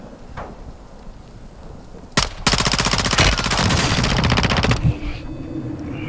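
Rapid automatic gunfire in Call of Duty: Modern Warfare II, a loud dense burst of rattling shots running for a few seconds before cutting off, over quieter background battle noise.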